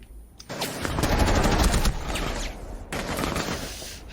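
Gunfire in Rainbow Six Siege, a dense, loud, close burst of rapid shots lasting about two seconds, a brief pause, then a second volley, with no talking.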